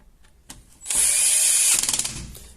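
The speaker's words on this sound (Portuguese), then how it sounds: "só colocar e parafusar" A power screwdriver drives a screw into a washing machine part, with a short whir and then a sustained high motor whine of about a second, ending in a stuttering ratchety clatter as the screw seats.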